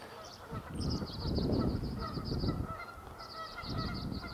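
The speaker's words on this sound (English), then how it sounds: "Those geese over there at the pond are really quacking away over there." Geese at a pond honk in a rapid, repeated chorus of nasal calls, with a break midway before the honking resumes over a low rumbling background.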